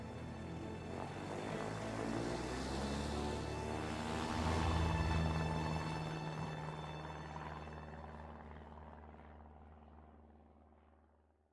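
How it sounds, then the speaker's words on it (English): An airplane engine in the video game A Way Out hums with a propeller-like drone that swells to a peak midway and then gradually fades away, with no talking. "Ye aawaz hai plane ki."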